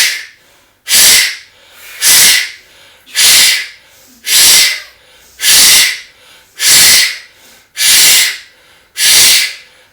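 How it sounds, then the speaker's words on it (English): Rapid forceful yoga breathing like hyperventilating, nine sharp hissing breaths through the nose at a steady rhythm, loud and close with short pauses between, no talking. "we breathe in and out very rapidly as though we're hyperventilating"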